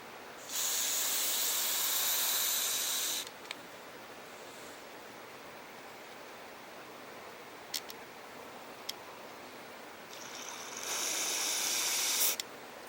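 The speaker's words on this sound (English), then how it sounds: "I'm just going to spray this out. This is going to be messy." Two loud bursts of carburetor cleaner spray hiss into the carburetor jets of a Briggs and Stratton lawn mower engine, one early and one near the end, with a few faint ticks and clicks in the quiet gap between.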